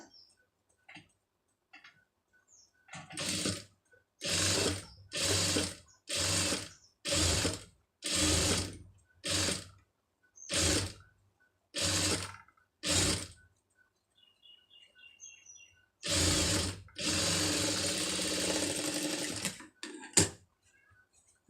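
A sewing machine stitching a puff sleeve runs in about ten short, evenly spaced bursts, then one longer continuous run, loud and close with quiet pauses between.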